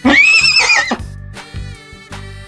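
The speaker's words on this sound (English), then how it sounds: "The horse gallops in the field." A horse gives one loud, close whinny lasting about a second, followed by a few plodding hoof clops.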